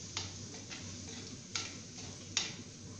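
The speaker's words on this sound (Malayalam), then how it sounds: "പൊടികളുടെ പച്ചമണം മാറുന്നതും വരെ ഒന്ന് വഴറ്റി കൊടുക്കാം" Prawn masala sautés in a pan with turmeric, coriander and chilli powders. A faint, steady sizzle is punctuated by a few soft clicks of a spoon stirring, with no talking.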